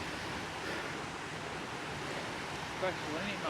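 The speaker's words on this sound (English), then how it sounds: "Loads of little waterfalls everywhere, isn't there, coming off out the ground." Small waterfalls spilling out of the ground in the Scottish Borders make a constant, even rush of falling water that fills the whole scene without pause, with a faint hint of wind and no voices.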